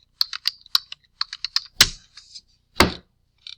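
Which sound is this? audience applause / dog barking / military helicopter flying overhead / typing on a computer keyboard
typing on a computer keyboard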